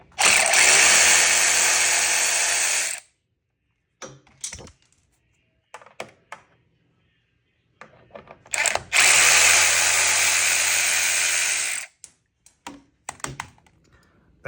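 Power tool backing out T40 motor mount bolts on a VR1 boost build, two loud sustained whirring bursts separated by short clinks and handling noises, close up.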